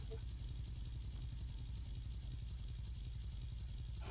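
A helicopter's rotor thumps in a fast, steady rhythm in the Roblox game Brookhaven, fairly quiet and unchanging throughout.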